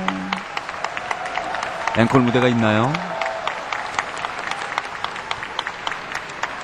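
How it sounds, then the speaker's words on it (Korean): After a pair figure skating performance at an ice show, the arena audience keeps up a continuous patter of applause, while a commentator talks over it and a brief tonal musical swell rises in the middle. "아, 박수가 계속 나오는군요."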